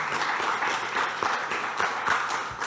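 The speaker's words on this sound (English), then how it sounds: "Let's give them a round of applause." Steady applause from an audience at a leadership networking meeting, a dense sustained clatter of clapping hands with a few sharper claps standing out, continuing evenly for a few seconds.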